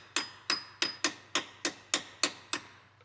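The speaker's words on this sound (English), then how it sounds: "I'm just gonna give it some hits with the hammer." A hammer strikes a rounded metal suspension part from an Eclipse GSX turbo build nine times in a steady, evenly spaced rhythm, each hit a sharp, close, ringing clank.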